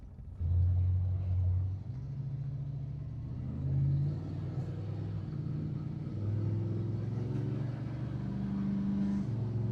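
A small-block Chevrolet V8 swapped into a car idles with a deep, steady rumble, swelling in a few brief revs and settling back, heard close with no talking.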